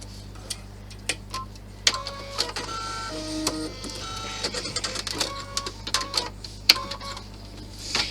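An embroidery machine stitches placement outlines on a fabric panel for a bag lining, giving rapid mechanical ticking and clicking with short whirring runs over a low steady hum, close and alone.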